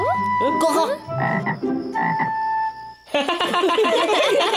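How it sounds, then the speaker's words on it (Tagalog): A frog croaks repeatedly in loud, rough bursts, with a brief pause before a denser stretch of croaking near the end. "Palaka yan or frog? Kukak!"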